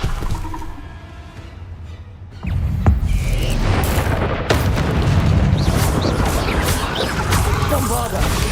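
A Bombarda blasting spell goes off in Hogwarts Legacy, a deep boom at about two and a half seconds followed by a sustained loud rumbling roar of debris and effects, with faint game audio before the blast.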